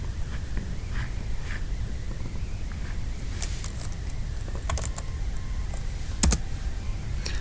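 Typing on a computer keyboard, a steady run of light, close key clicks over a low background hum, with a slightly louder clatter near the end.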